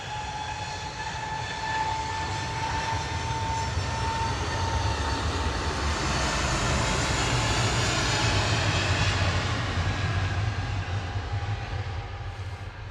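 An Airbus A320neo jet departs Manchester Airport, a steady, loud broadband engine roar with a low rumble and faint whining tones that holds constant throughout, alone without voices.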